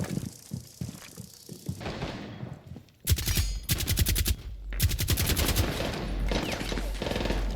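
Automatic weapon fire in the video game Rainbow Six Siege, loud rapid bursts of close gunshots with a short gap between sprays, preceded by quieter scattered in-game sounds.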